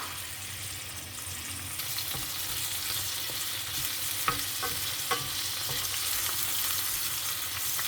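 Onions sautéing in a pan for a sardine and upo dish, a steady broadband sizzle with a few sharp utensil clicks and stirring scrapes midway, close and continuous with no voices.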